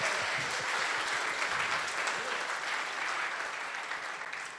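An audience gives a round of applause for a live band at a talk event; full, even clapping carries on for several seconds before tapering slightly.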